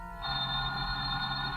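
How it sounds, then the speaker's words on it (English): An old-fashioned telephone bell rings steadily and continuously at close range in a radio drama scene, alone with no voices over it. "Just then your telephone rings."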